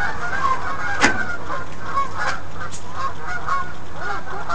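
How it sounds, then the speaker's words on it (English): Canada geese honking at a distance in a busy outdoor setting in New York City, several calls spread out, one sharper honk standing out early. "Canadian geese."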